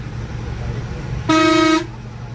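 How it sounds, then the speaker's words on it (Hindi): A bus sounds its horn at a blind curve on a Himalayan mountain road, a single loud honk lasting about half a second over road and engine noise. "हर ब्लाइंड मोड़ पर हॉर्न देकर ही बस को आगे बढ़ा रहे हैं"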